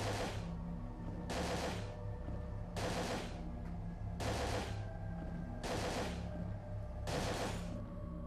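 Gunfire in the survival horror game Parasite Eve 2: six evenly spaced bursts of shots about every 1.4 seconds, loud and close over a steady low game hum, with no talking.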